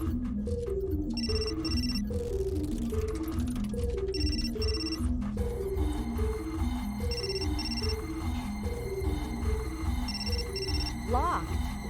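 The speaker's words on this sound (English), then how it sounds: "My phone. Must be McPherson" A phone rings repeatedly in the video game Still Life 2, steady paired electronic trills recurring over a droning, pulsing music bed throughout.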